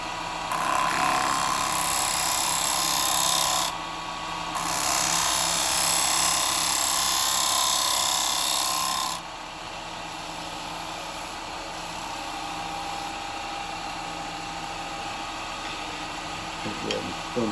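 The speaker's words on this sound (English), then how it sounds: "I have to come in with a spindle gouge" Spindle gouge cutting a beech dish on a wood lathe, a loud steady whirring and hissing cut that starts and stops in two long passes, then a lower running hum as the lathe spins on.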